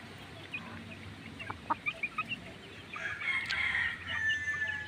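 Free-ranging hen with her young chicks outside the coop: a run of soft rhythmic clucks, then a louder, drawn-out crow-like call over steady outdoor background, with no voices.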